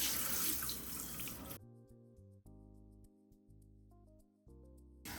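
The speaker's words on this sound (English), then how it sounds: "So then you would just fill the sink back up with water" A kitchen sink fills from a running tap while collard greens are being washed, a loud rushing stream that stops abruptly after a second and a half, followed by steady tones.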